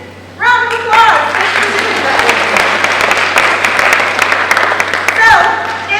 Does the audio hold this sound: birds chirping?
no